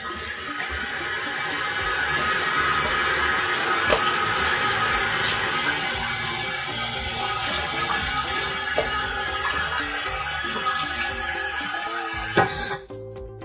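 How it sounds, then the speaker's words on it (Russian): Warm tap water runs steadily into a sink to soak a cocoa-stained sweater, a constant close rush and splash that continues alone until it cuts off near the end. "Включаем воду, замачиваем в теплой воде это пятно"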